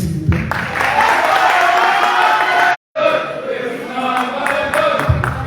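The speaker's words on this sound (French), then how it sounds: "Merci de l'applaudir, s'il vous plaît." Audience applause and cheering from a crowd at an outdoor independence day celebration in Morocco, a steady loud wash of clapping and voices lasting several seconds, broken by a short silent gap midway.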